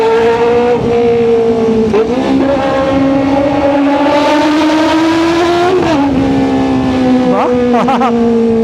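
A Kove 450RR inline-four sportbike engine, ridden on the road, drones loud and close, with its revs rising, dipping and climbing again through several throttle changes.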